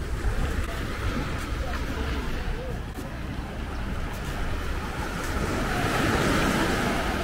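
Surf rolls and washes steadily onto a wild, stony beach, a continuous close roar of waves mixed with wind buffeting the microphone, building slightly louder toward the end.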